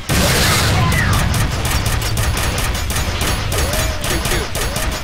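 Rapid gunfire from the video game F.E.A.R., dense bursts of automatic shots packed close together and loud throughout, with brief metallic mechanism clicks between volleys.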